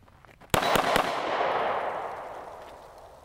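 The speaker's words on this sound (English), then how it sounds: "An important test of the reliable function of a pistol is to fire below eye level retention." Hi-Point C9 pistol fired from a retention position below eye level, three loud, sharp shots in quick succession followed by a long echoing decay outdoors.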